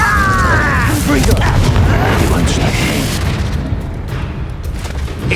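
Confringo spell explosions in the Hogwarts Legacy video game boom loudly in dense succession with rumbling debris, mixed with dueling voices and spell effects.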